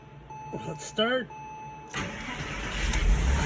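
A Porsche Boxster 986 cranks and fires up with its newly replaced starter motor, the engine catching after a short whir and settling into a steady idle, close by, with a voice speaking just before it starts.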